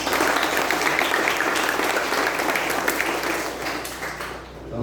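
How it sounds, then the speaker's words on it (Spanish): Dense, steady applause from a congregation welcoming a reverend to a community gathering, loud and continuous throughout, easing slightly near the end. "Un aplauso para ustedes."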